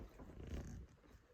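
A hyper pet dog gives a low, rumbling growl for about a second, close to the microphone, fading quieter toward the end.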